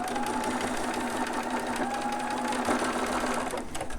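A sewing machine runs steadily in one continuous burst, back stitching the end of a newborn romper seam, its motor hum and rapid needle chatter loud and close with no talk.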